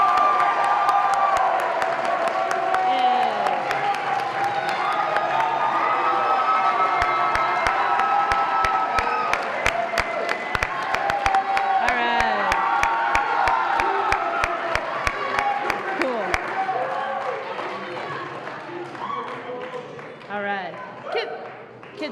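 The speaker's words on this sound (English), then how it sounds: "So let's give him a round of applause." Cheering and clapping from a school band concert audience for an honored student teacher, a lively mix of shouts, whoops and sharp rhythmic claps, with voices calling out throughout.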